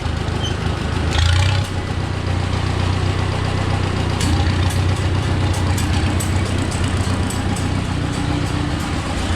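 A large diesel tractor engine idles steadily at low revs, a loud continuous chugging rumble with a brief louder clatter near the start.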